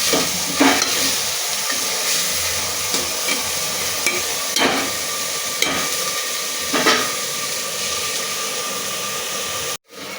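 Spices and turmeric fry in a pan for a spicy chicken curry, with a constant loud sizzle and repeated scraping stirs at an unhurried rhythm, close up and with no talking.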